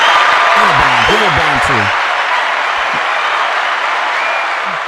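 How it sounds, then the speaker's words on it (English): Round of applause for a guest on a casual comedic show, sustained clapping through the clip while someone speaks over the start. "Can we get a round of applause"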